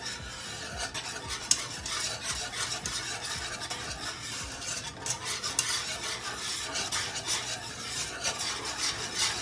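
A sauce being whisked in a pan just taken off the heat, with steady scraping and stirring strokes and a light sizzle running continuously throughout, fairly close and alone without talk.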